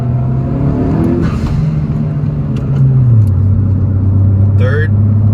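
A 10th-generation Honda Civic Si fitted with a PRL Cobra cold air intake accelerating in second gear, its engine drone climbing steadily and loud from inside the cabin, with a brief voice and a few faint clicks over it.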